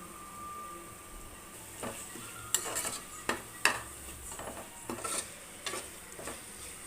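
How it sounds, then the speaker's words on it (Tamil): Tomatoes are stirred and scraped in a pan for veg biryani, with a soft sizzle underneath and several sharp utensil knocks against the metal. "கொஞ்சம் நம்ம தக்காளி நல்லா வதங்கட்டும்"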